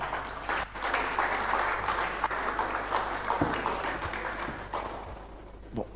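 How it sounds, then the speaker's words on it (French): An audience applauds the Canadian ambassador to the DR Congo at a trophy award ceremony, steady dense clapping that fills the room for several seconds without letup. "Merci de l'applaudir encore une fois."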